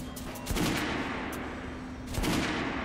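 Guns being tested at a shooting range in Metro Last Light: two loud, sharp bursts of fire about a second and a half apart, each with a reverberant tail over a steady low hum.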